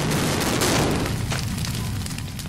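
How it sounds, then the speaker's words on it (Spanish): A film special-effects explosion of an aircraft on a shooting set: a loud, dense blast that roars at full strength from the start and then slowly thins into a rumbling, crackling tail. "Si queréis ver la explosión, que haya algo por medio entre vosotros y ella."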